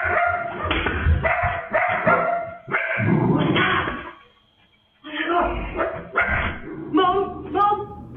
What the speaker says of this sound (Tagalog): Lagi na lamang nagtatatako ang aso nila na tila ba may nakikita sa paligid